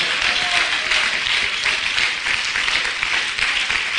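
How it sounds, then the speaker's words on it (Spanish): A church congregation applauding loudly during a Spanish-language service, a dense, steady wash of clapping that holds throughout, with faint voices mixed in. "Dele un aplauso fuerte al Señor."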